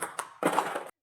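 Backhand rip in table tennis, brushing the ball with heavy spin: a soft tap followed by a duller, muffled brushing contact, close and fairly quiet.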